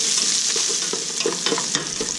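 Onions sauté for kare kare in a hot pan under a steady close sizzle, broken by a series of spatula strokes scraping and stirring at an uneven rhythm.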